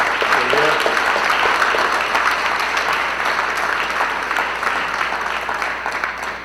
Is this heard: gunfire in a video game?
no